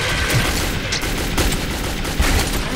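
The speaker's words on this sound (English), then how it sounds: "Okay, got 5 shots for my assault rifle." Dense, continuous gunfire from an assault rifle in the Metro 2033 video game: rapid shots run together into a loud, steady barrage for the whole stretch.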